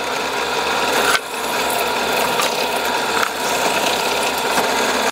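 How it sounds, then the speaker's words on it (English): A power drill with a 5mm bit runs steadily, grinding and rasping through material in continuous bursts with two brief pauses, close and loud. "And then a 5mm drill for these four holes."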